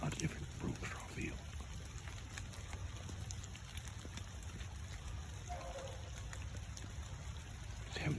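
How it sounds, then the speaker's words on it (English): Rain falls steadily outdoors over a broom straw field during a beagle rabbit-hunting outing, a constant soft hiss with low wind rumble and scattered drops, and a brief faint voice partway through. "Getting a little tougher on that rain's coming in like that."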